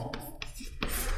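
A pen scratches across paper during a handwritten math lesson in short, quick strokes separated by brief pauses, close up and fairly quiet, with no talking.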